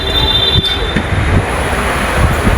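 A passenger train running, heard from aboard: a loud, continuous rumble of wheels on rails with a thin high squeal riding over it, steady and close with no voices.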